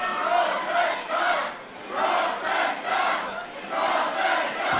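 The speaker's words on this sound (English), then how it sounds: "This crowd who have been vocal in support of their favourites all night" A wrestling crowd at a live GWF show chants and cheers loudly in rhythmic surging waves, roughly one swell every second, filling the hall with massed voices.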